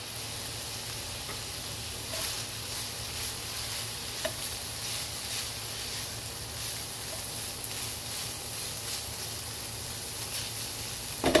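Ground meat sizzles steadily in a frying pan for a chowfan-style breakfast, with soft scraping stirs breaking the constant hiss at a moderate, close level.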